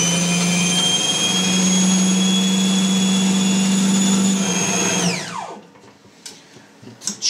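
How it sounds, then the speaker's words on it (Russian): A meat processor chops beef with ice water at a loud, high, steady whirring whine that holds for about five seconds, then spins down in a falling glide to near silence with a few small clatters. "И начинаем измельчать примерно в течение 3-4 минут."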